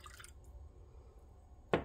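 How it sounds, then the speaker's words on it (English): Water from a measuring vessel pours into a bowl of sourdough starter at the end of a quiet kitchen moment, a brief close splash after faint clinks and low room noise. "And I measure out about 36 grams of water."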